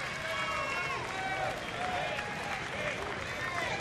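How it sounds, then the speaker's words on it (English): Crowd applause for Jim Thome stepping to the plate during a Toronto at Philadelphia baseball game: a dense, steady wash of clapping and crowd noise from a big stadium audience, with an announcer talking over it. "This is the round of applause"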